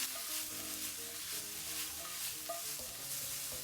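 Vegetables cook in a pan with extra virgin olive oil, salt and black pepper, giving a steady, moderately loud sizzle with light stirring scrapes and no voices.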